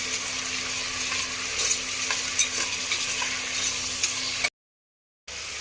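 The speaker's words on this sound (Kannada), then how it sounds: "ಇವಾಗ ಸಣ್ಣದಾಗಿ ಕಟ್ ಮಾಡ್ಕೊಂಡಿರೋ ತರಕಾರಿ. ಎಷ್ಟು ನಿಮಿಷ? ಇದು 2 ನಿಮಿಷ ಬಾಡಿಸ್ಕೊಳ್ಬೇಕಲ್ಲಿ." Finely chopped vegetables sauté in a pan for a fresh field bean (avarekalu) vegetable saagu, a steady close sizzle with repeated stirring scrapes before a sudden brief dropout.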